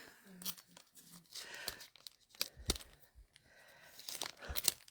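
Cardboard packaging on a kaleidoscope kit being cut open with snips, giving sharp tearing and crinkling bursts that come in irregular clusters, close and fairly loud, with a person talking between the cuts.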